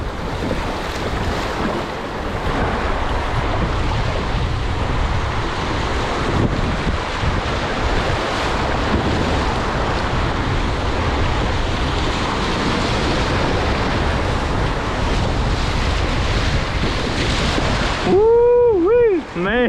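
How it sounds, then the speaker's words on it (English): Big river waves on the Mulberry River splashing and rushing against a float, a loud continuous wash of water with wind buffeting the microphone, close by, ending in a brief burst of other noise. "Man, big waves."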